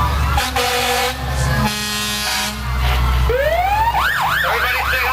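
Fire engine siren from Danvers Engine 4 at a 1995 Christmas Santa parade in Beverly, wailing up and down loudly near the end after deep air horn blasts over outdoor crowd noise.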